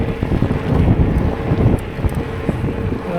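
Wind gusts rumble and buffet the microphone outdoors on a ride, a continuous loud low roar with choppy pulses.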